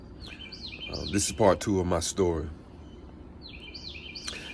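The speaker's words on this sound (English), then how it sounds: "I'm listening to the birds chirping." Birds chirp outdoors on a morning, their bright calls at the start and end while someone talks over the middle.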